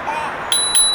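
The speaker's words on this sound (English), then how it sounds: "Oh, that's the bell. That's quite cool. It's built right in." Two quick high rings from the built-in bell on a Windgoo M12 electric scooter, struck in close succession over faint background noise.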